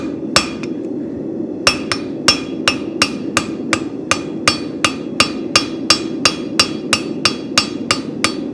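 A farrier hammers a horseshoe while forging spavin shoes, sharp ringing metal blows in a steady rhythm, about two per second, loud and close over a constant low hum.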